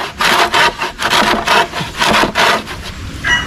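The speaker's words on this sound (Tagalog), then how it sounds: "Parang wala nang talas ng lagari ah." A dull hand saw rasps through bamboo close up, in quick back-and-forth strokes of about three per second.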